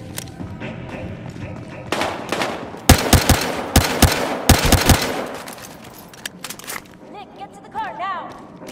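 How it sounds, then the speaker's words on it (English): Gunfire in the video game Battlefield Hardline: several sharp, close bursts of automatic shots crack out in clusters over a rumbling background, with spoken voices and radio-style chatter around them and rising siren wails near the end. "Gunshots reported."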